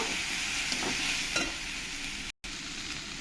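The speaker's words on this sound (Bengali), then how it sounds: "মিশিয়ে একটু ফ্রাই করে নেব" Ground cumin and coriander powder fry in oil in a pan for a parwal curry, a steady close sizzle with light stirring and a brief dropout near the end.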